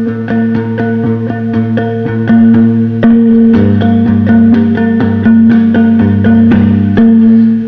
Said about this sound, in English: Oh, there's distortion on it